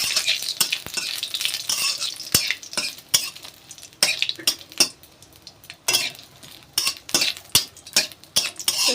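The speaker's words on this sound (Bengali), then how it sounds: "মৌরিটা শুকনো লঙ্কাটা দিয়ে দিয়েছি। একটু ভাজা ভাজা করে নেবে।" Dry red chillies and fennel seeds frying in hot oil in a kadai, a steady crackling sizzle broken by repeated sharp scrapes and clinks of a stirring spoon against the pan, with no talking.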